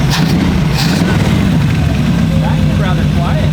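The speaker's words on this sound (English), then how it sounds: "It's actually rather quiet for the exhaust it has." A custom Mad Max-style trike engine runs through its exhaust, a steady loud low rumble and drone held for several seconds at close range, fairly subdued for the size of the exhaust.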